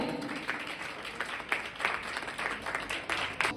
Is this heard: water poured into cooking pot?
no